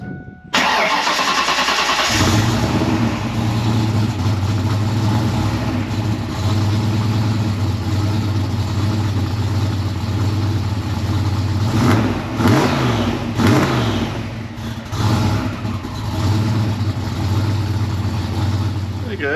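The Coupe's engine cranks and catches, then settles into a steady, throaty idle through new stainless LX tailpipes. Several sharp revs punch through near the end, close by and loud.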